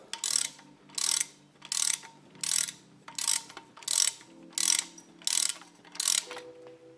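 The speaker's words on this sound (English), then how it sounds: "now we're going to torque the nut down to" A torque wrench ratchets a timing chain nut tight on a Ford 302/351 V8. Nine evenly spaced bursts of clicking come up close, each about half a second long, with a faint hum underneath.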